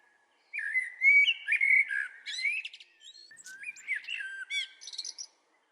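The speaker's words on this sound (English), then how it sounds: "poets have always been fascinated with birds and birdsong" A bird sings alone in clear, bright phrases of whistles, trills and chirps, close and crisp against a silent background.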